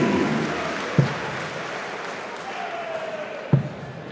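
Arena crowd at the 2014 PDC German Darts Championship in Hildesheim applauds back-to-back 180s, a broad wash of clapping and cheering under commentary, punctuated by two sharp thuds.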